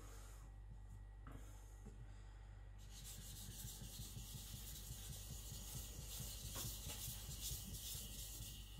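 A custom knife blade sharpened on a sharpener, heard up close as a steady, continuous grinding rasp that becomes louder and brighter partway through, over a constant low machine hum.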